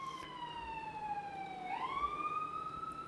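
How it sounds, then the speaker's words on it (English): Emergency vehicle sirens wail outside in a downtown area, one steady sweeping tone that dips and rises again, distant and faint under a constant background hiss. "I apologize for the sirens if you're hearing those."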